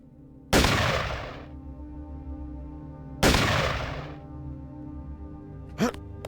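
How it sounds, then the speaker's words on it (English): Two loud, booming sniper rifle shots in the video game Deus Ex, about three seconds apart, each with a long ringing decay, followed by a brief faint rustle. "Despite how comically loud this sniper rifle is."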